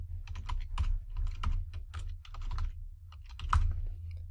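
Quick bursts of keystrokes on a computer keyboard as a database name is entered, close and clear, with short pauses between clusters of clicks and no voices.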